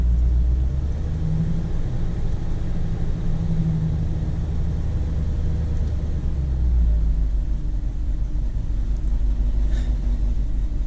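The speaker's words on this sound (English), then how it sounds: "And we are idling away." A Chevy C10 pickup truck engine idles steadily close by after a belt replacement, a continuous low rumble with a faint mechanical whine, holding an even pitch throughout.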